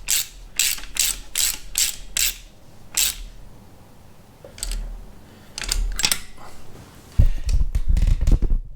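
Spark plug spanner ratcheting on a cylinder head, with quick bursts of crisp metallic clicks in a rapid even rhythm, then scattered clicks and a louder clattering handling noise close to the listener.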